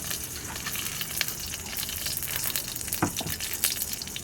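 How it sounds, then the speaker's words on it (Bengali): Ghee sizzling in a hot pan, a continuous close crackling hiss with a few sharper pops and bursts, moderately quiet and alone. "কড়াই গরম হয়ে গেছে, ঘি অল্প দিয়ে দেব।"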